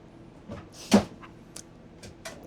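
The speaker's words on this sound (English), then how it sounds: "And this is what you like. The soft close." A soft-close drawer in an Airstream travel trailer glides shut with one muted thump, surrounded by a few faint knocks and rattles in a quiet interior.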